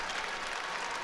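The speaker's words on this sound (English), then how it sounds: "Nice round of applause, starting to get a standing ovation now." Applause and a standing ovation from the crowd at a college basketball game, dense, steady clapping that fills the arena without a break.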